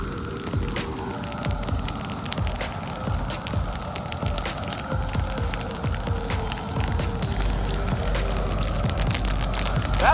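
A two-acre millet field in a dove field burns with a steady roaring crackle and scattered sharp pops, close and continuous, without speech.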